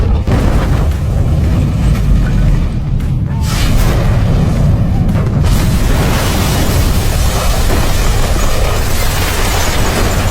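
A time bomb detonating and levelling an entire building in a film, a dense sustained roar of blast and rumbling debris filling the whole stretch at high loudness.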